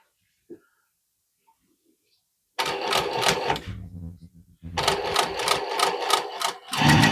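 A sewing machine stitches a seam with a test presser foot, running in two loud, steady bursts of rapid mechanical clatter separated by a short pause, alone and close.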